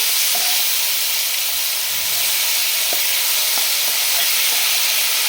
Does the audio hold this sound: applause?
no